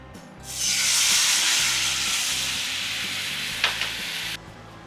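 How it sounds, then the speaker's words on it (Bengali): Mustard seeds and chilli frying in hot oil for a Bengali fish curry, giving a loud, steady sizzle that rises quickly, holds for several seconds, and then cuts off abruptly. "সর্ষে আর লঙ্কাটা ফ্রাই হচ্ছে"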